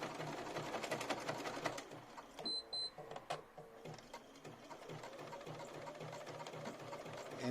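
A sewing machine stitches lace motifs in close, rapid bursts of whirring and clatter, pausing briefly partway through before running steadily again at low volume.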